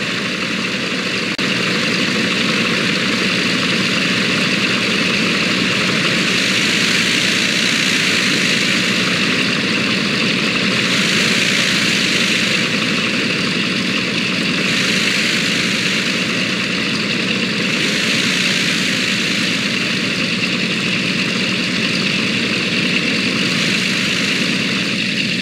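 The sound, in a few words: Douglas DC-3 propeller plane engines in Microsoft Flight Simulator video game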